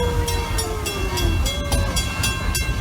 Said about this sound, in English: we are pulling into the Congo train station